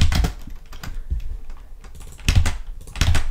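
C++ code being typed on a computer keyboard, close and crisp, with irregular bursts of rapid key clicks separated by short pauses.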